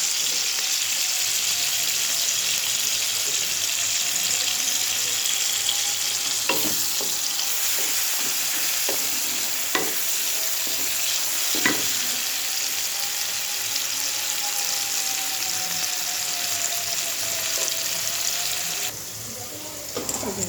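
Onion and green chili fry in a pan with a steady, even sizzle that runs throughout, broken by a few sharp clicks and taps of a utensil, then briefly quieter near the end.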